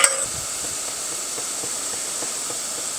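Celery sizzles steadily in a hot pan, a constant hissing fry with faint scrapes of a spoon stirring at irregular intervals, close and moderately loud, opening with a brief sharp clink.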